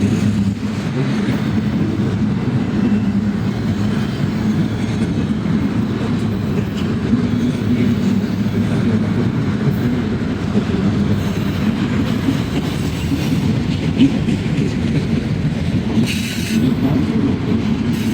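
Freight train with many auto rack cars rolls past close by, a steady loud rumble of wheels on rails with rhythmic clickety-clack and occasional faint wheel squeal throughout.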